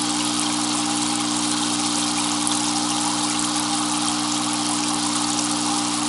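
A single airstone bubbles in compost tea, making a continuous fizzing hiss over a low, even pump drone that holds level throughout.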